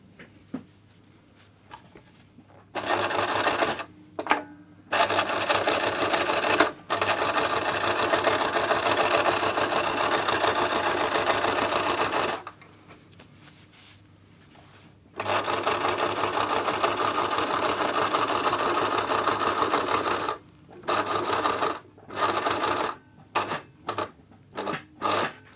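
Sewing machine stitching the drawstring channel of a fabric dice bag, with long runs of rapid close motor-driven needle clatter broken by pauses and short forward-and-reverse bursts.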